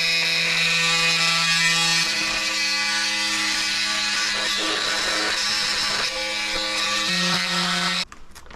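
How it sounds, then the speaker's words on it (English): Old Toyota Camry fuel filter being cut open with an oscillating multi-tool, a loud steady high buzzing drone with shifting pitch as the blade bites into metal, close up, stopping abruptly near the end. "Alright, so I'm gonna cut open the old fuel filter and see what it looks like on the inside."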